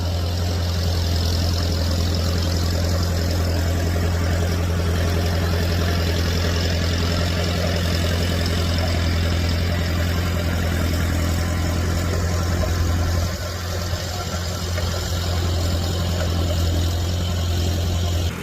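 A Farmall M tractor pulling a 216 Little Genius plow gives a loud, continuous low engine drone, steady and close for the whole stretch with only a slight dip near the end.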